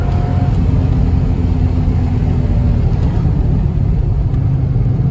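A 4.6-litre V8 engine in an MG ZT 260 rumbles deeply and steadily from inside the car, a loud constant low drone without talk.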